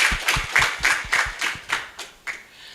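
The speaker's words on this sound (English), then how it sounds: "I would want everybody in the room to clap for themselves" Audience clapping in a room at an aquaculture event, with irregular, fairly loud close claps from a small group that thin out and fade over a few seconds.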